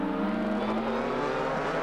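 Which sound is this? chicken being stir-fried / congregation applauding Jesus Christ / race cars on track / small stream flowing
race cars on track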